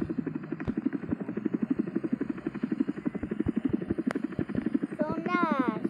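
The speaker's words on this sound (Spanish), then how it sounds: "Sí, estoy en un helicóptero." Helicopter flying, a steady rhythmic rotor chop throbbing close and loud throughout, with voices talking over it.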